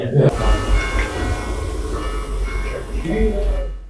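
Church bells ring with sustained metallic tones over a loud, rumbling background wash, with voices mixed in.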